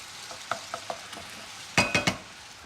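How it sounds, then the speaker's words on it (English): Spicy Worcestershire sauce bubbles in a pan as it is deglazed and brought to the boil, giving a low sizzle with light scattered taps, then a closer cluster of three louder scraping stirs. "Deglaze the pan."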